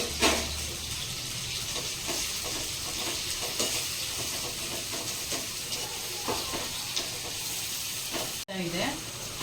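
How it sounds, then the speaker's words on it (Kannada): Chopped tomatoes for a tomato egg curry frying in a pan with salt, a continuous close sizzle with soft stirring scrapes throughout and a brief clatter near the end. "ಇನ್ನು ಸ್ವಲ್ಪ ಚೆನ್ನಾಗಿ ಫ್ರೈ ಆಗಬೇಕು"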